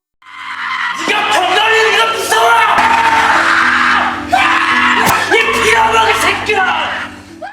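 A person in a film screams in fear, loud drawn-out cries that rise and break off, repeated in several bursts over a noisy, shouting scene background.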